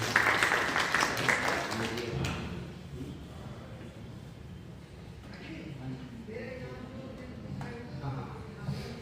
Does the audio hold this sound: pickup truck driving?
no